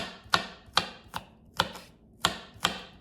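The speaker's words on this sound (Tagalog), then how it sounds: "Chop tayo ng onions. Green onions, guys." Green onions chopped with a knife on a cutting board, six or seven crisp, evenly spaced knocks close by, with no talking.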